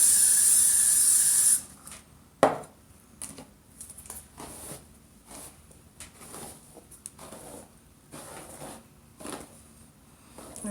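Hairspray hisses onto a wig at the start, then a sharp pop and a series of short, soft spritzes and rustles, fairly close and with no talking.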